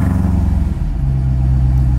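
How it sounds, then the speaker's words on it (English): A 2024 car on a cold start with its stock exhaust, engine revving loudly up close and then settling into a steady, deep, droning idle. "I'm gonna give you guys a cold start with the stock exhaust on,"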